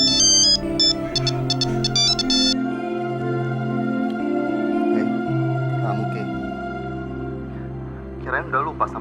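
Electronic phone ringtone for an incoming call in an Indonesian TV drama, a loud looping melody that plays steadily for the whole stretch, with a brief voice near the end.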